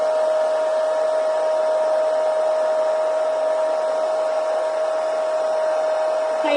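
A craft heat dryer blows a steady, loud, even whir with a constant tonal hum as it dries ink on a mixed media tag card, continuing unbroken and close throughout.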